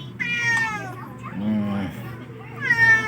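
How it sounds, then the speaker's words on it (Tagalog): Cat meowing indoors, two drawn-out cries, one at the start and one at the end, with a softer sound between them and a person talking nearby. "Pusa umiiyak na."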